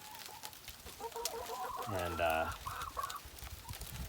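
Hens clucking inside a chicken coop on a cold, damp day, a rising run of throaty clucks peaking into a loud squawk, with a brief word spoken under it.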